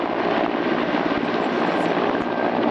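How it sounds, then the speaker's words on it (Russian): Military transport-combat helicopters fly over a training range on Sakhalin during exercises, a loud, continuous rotor roar with steady chopping that runs throughout and cuts off at the end. "транспортно-боевых вертолетах"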